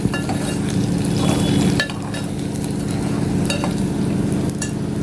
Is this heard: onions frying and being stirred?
yes